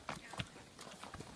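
A ridden horse walks through a valley, its hooves striking the ground in a steady, close clip-clop rhythm with faint outdoor ambience and no talking.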